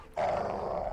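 A caged dog in the video game Modern Warfare 2 lets out one continuous, close, rough growl lasting about a second, with no other sounds around it.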